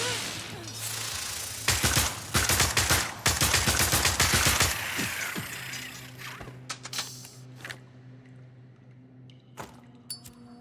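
A fast volley of gunshots in the horror game Tormented Souls 2, a loud string of sharp cracks that fades into scattered single shots and clicks over a low ambient hum.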